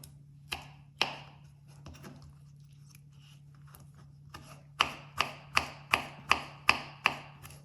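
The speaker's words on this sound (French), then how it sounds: "à chaque fois, on enlève l'intérieur de la tomate" A tomato is hollowed out by scraping its seeds and pulp away, giving close, sharp wet taps: a few scattered at first, then a quick, even run of about eight near the end, with no talking.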